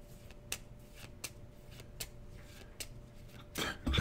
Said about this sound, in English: Now we have to shuffle.